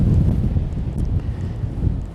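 Gale-force wind buffets the microphone on open moorland near Bewcastle, a continuous low roaring rumble with gusty swells and no voices.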